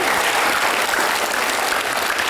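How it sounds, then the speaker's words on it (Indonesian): Studio audience applause on a television talk show, a steady dense wash of clapping that fills the whole stretch at full loudness with no voices over it. "Kita berikan aplaus buat Funi."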